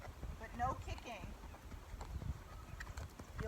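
Gaited horse moving at a flat walk during training, its hoofbeats a faint irregular clip-clop under steady background noise, with a brief bird-like call near the start.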